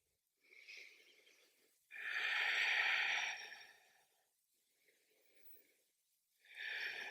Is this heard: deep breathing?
yes